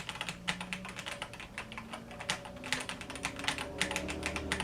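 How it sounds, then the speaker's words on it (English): Keys clack in an irregular typing run on a DrunkDeer A75 mechanical keyboard, close and moderately loud, with a faint steady hum underneath. "But it definitely has that key sound as such, which is nice because that is my signal to me that I've made the key"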